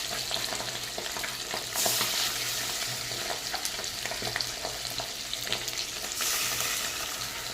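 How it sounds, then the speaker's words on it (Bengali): Catla fish, three pieces, steaming whole in a covered wok, giving a steady close hiss and sizzle with a few brief louder bursts and light clinks, no voices. "এই কড়াইটার মধ্যে আমি ভাপা করে নেব সম্পূর্ণ মাছটা"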